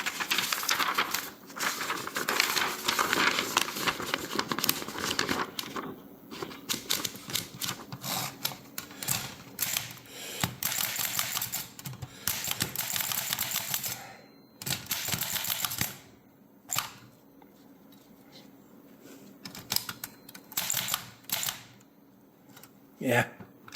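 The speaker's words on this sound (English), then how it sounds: "Start typing, and I now have a fresh, properly working typewriter." A Smith Corona Portable 3 typewriter with a fresh ribbon is typed on, giving rapid bursts of sharp mechanical key clacks broken by short pauses, close and prominent, with a person's voice heard at times.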